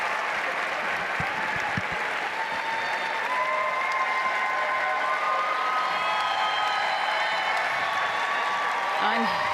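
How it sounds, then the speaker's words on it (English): A big crowd at the Westminster Kennel Club Dog Show cheers and applauds in a sustained, roaring wave with whistles and shouts, while a commentator talks over the noise. "Listen to the crowd."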